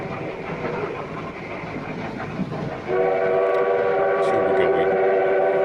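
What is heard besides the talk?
model train running in the film Horror Express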